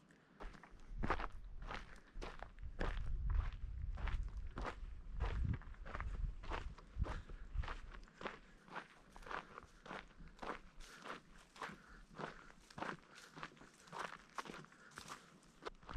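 Regular footsteps crunch along a trail near Hauser Lake in Lewis and Clark National Forest at an even walking pace, close by, with a low rumbling background that fades partway through.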